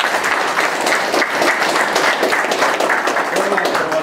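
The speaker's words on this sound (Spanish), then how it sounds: "Y por eso hay que dar fuerte aplauso a nuestros regidores." Audience at a community event applauding municipal councillors after a donation of fire hoses, steady dense clapping throughout, with a voice faintly starting to speak near the end.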